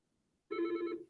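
A single short telephone ring, a clear electronic burst lasting about half a second, sounds close and alone after near-silence during an online math lesson.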